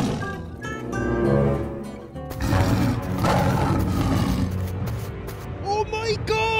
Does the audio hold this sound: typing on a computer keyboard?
no